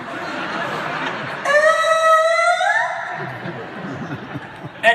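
A voice imitates a very squeaky door slowly creaking open, a rising, tonal squeal lasting about a second and a half, heard in front of a live comedy-show crowd with laughter around it.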